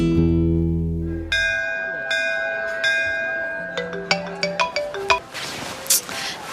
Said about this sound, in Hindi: नमन, एक बार उठाकर बात कर लो। कब तक ऐसे ही फोन इग्नोर करोगे?